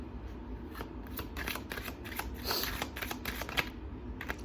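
Tarot cards being shuffled in a steady run of crisp, papery riffles and flutters, close up and fairly quiet with no talk.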